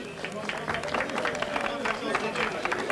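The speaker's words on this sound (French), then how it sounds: "on peut les applaudir à nouveau" A crowd at a cycling race ceremony on the beach circuit at Brétignolles-sur-Mer gives steady applause, dense clapping running throughout under an announcer's voice.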